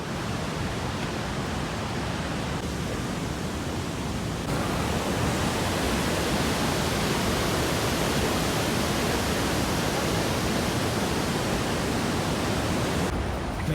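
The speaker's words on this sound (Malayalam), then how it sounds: "ഇതാണ് അതിരപ്പള്ളിൻ്റെ ടോപ്പ്, അതിരപ്പള്ളി വെള്ളച്ചാട്ടത്തിൻ്റെ ടോപ്പ് സാധനം." Water rushes over the top of Athirappilly waterfall in a dense, unbroken roar, loud and constant with no voices.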